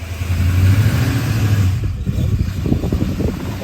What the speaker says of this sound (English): Nice classic Chevy.